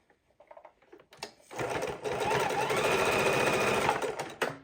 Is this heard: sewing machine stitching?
yes